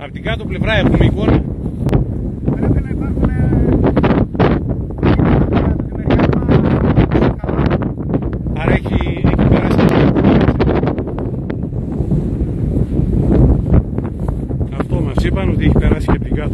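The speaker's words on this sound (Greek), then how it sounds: "Βλέπετε πόσο πολύ φυσάει." Strong wind roars steadily and loudly across the microphone at the edge of an active wildfire outside Koila, Kozani, Greece, with continuous buffeting gusts for the whole stretch and no clear speech.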